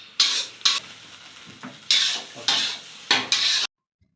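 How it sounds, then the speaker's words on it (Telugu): Egg fried rice with soy sauce and vinegar is stirred and tossed in a pan at home, five or six scraping, sizzling strokes in quick bursts, close and loud, ending abruptly with no talking. "ఇప్పుడు బాగా మనము రైస్ని మంచిగా మిక్స్ చేసుకోవాలి"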